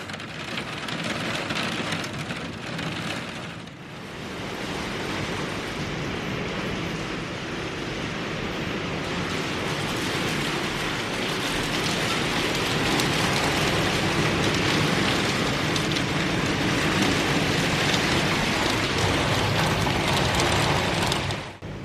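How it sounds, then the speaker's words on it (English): Steady rain on windows, a dense even hiss of drops pattering against the glass that holds constant and close for the whole stretch, with no voices over it. "The sound of rain on windows has to be one of the most relaxing, satisfying sounds of all."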